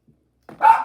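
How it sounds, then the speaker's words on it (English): One loud, close dog bark rings out indoors after near silence. "We have loud dogs in here."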